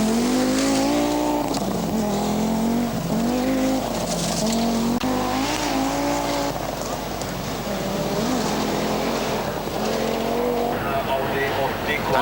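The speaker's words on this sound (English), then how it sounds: "The Audi Quattro of Kari O. Solbode, number 27. And he's trying hard." Audi Quattro rally car, number 27, racing on a 1985 rally stage, engine revving hard and rising and falling with tire noise throughout, loud and continuous under a commentator's voice.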